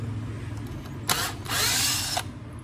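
A power drill unscrews the base of a Yamaha SW-800 subwoofer, with two bursts of whirring: a short one and then a longer, steady run, close and loud over low background hum.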